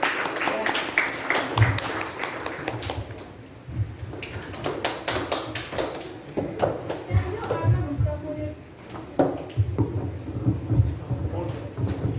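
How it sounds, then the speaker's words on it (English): An audience at a youth leadership programme event applauds, with bursts of clapping that start, fade and swell again over about twelve seconds, heard in a hall at moderate volume. "Please clap for them."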